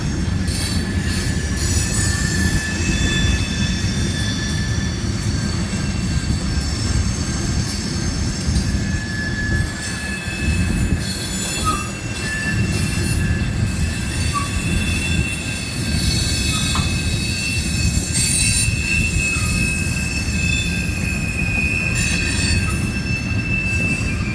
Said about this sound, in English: Listen to those flanges.